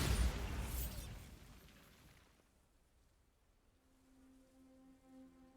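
A Bombarda spell explosion in the video game Hogwarts Legacy bursts loud at the start, then decays over about two seconds into a quiet background with a faint tonal hum.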